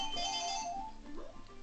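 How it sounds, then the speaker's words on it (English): A telephone ringtone chimes in a short melodic phrase, clear and fairly close, then fades as the tone trails off. "Oh no, that's the phone."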